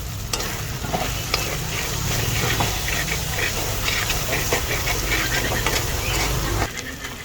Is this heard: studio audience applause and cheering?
no